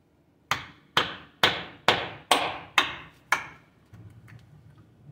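A hammer drives a screwdriver through a car's oil filter: seven sharp, loud metallic strikes at an even pace, each ringing briefly, then quieter low clatter.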